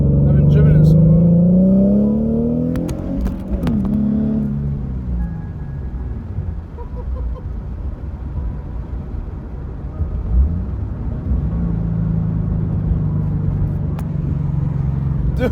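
Car engine fitted with test pipes and polyurethane transmission and motor mounts, revving loudly as it drives, with rising pitch sweeps through gear pulls and a steady droning rumble between, close and continuous.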